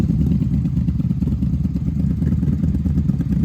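A 3rd-generation Honda Magna 750 VF750C motorcycle engine idles nearby in a low, steady, throbbing rumble, loud and even, with no one talking.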